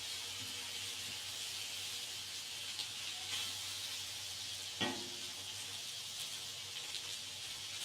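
Steak for cheesesteaks sizzling steadily on a Blackstone griddle, a continuous close hiss and crackle with a single sharp scrape or clatter midway, no talking.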